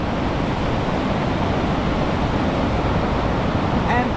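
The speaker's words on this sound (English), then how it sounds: "You see the waterfall" Steady, loud broadband rush of water from a waterfall in Kongsberg, Norway, a continuous roar filling the whole moment with no breaks.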